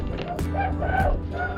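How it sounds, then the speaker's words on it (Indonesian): A rooster crows nearby in the pre-dawn hours along a rural road, giving one clear, drawn-out call with wavering pitch that stands out alone. "Ayam udah berkokok."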